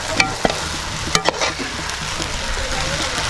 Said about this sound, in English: it's being stirred inside the oil, like that